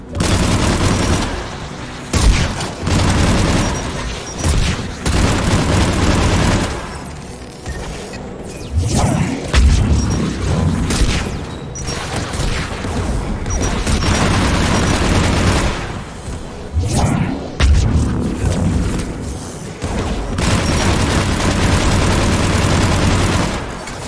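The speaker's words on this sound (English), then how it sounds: "AA guns ahead of us." Anti-aircraft guns fire in the Mass Effect video game, with loud, dense bursts of rapid gunfire and booming explosions that come in waves with brief lulls between them.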